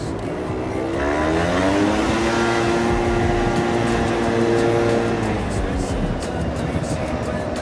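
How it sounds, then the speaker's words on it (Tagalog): Heavy road traffic heard from inside a car, with a steady engine drone and a passing vehicle's rising and falling whine, fairly loud and continuous, and no speech heard. "Grabe ang traffic ngayon eh."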